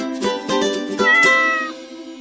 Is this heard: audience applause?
no